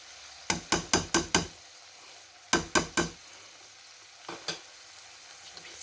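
Spices and chickpeas frying in a pan for an Afghani breakfast, stirred with sharp scraping clacks in quick bursts: a run of five, then three, then a softer pair over a faint sizzle, with no talking.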